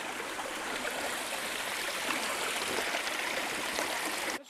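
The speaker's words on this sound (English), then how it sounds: "This stream here," A forest stream in the Olympic National Forest flows steadily over basalt, a continuous near rush and babble of water with no talking, ending abruptly.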